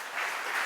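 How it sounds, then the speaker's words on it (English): Applause from a conference audience, a brief dense wash of clapping heard mid-stream, steady and fairly loud without any voices. "So please give a warm round of applause."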